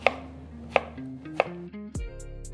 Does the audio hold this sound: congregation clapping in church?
no